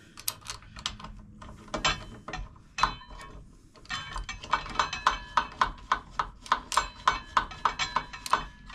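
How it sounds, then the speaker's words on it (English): A wrench torques bolts on the front wheel of a 2022 Harley-Davidson Street Bob 114 in a close workshop, giving a run of crisp, evenly spaced ratcheting clicks that speed into a steady rhythm after some scattered handling noises. "Torquing everything."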